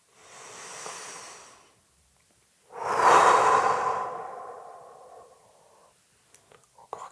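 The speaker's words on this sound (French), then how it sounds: "On souffle vraiment" Forceful exhaling breaths during a relaxation breathing exercise in a hotel room: a soft, breathy exhale, a pause, then a loud, long, close blow that trails off, followed by faint small noises.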